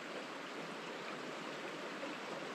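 The Acheron River flows steadily in a broad, even rush of water. The wash is constant and close, with no breaks and no voices.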